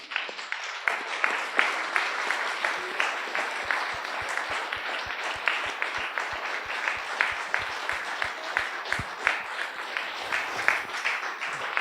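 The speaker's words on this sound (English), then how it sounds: "Please applause now." An audience at an economics lecture applauds at length: dense, steady clapping at close range, with no talk over it.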